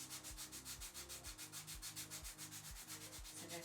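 An electric foot sander works over the sole of a bare foot at the ball, giving a soft, steady rhythmic rubbing with a regular pulsing grind, close and quiet with no talk.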